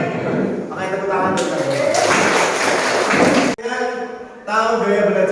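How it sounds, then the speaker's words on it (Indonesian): A junior high school class claps hands together for about two seconds, a dense burst of clapping between stretches of a teacher and students speaking. "Pakai tepuk tangan."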